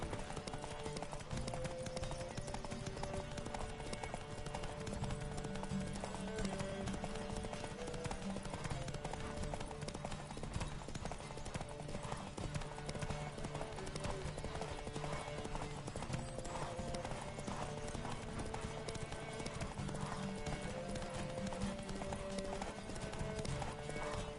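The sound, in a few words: horse hooves galloping in The Witcher 3 video game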